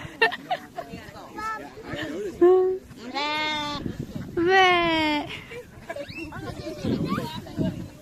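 Sheep and goats bleat loudly several times, wavering calls rising over a busy background of people chattering and children's voices.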